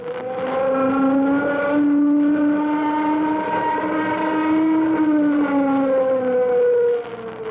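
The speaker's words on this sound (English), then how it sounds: "Sound warning signal." A warning siren in an old radio drama wails loud and steady, a rising and falling mechanical tone that sounds on its own for several seconds.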